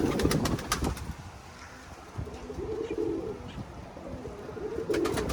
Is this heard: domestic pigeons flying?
yes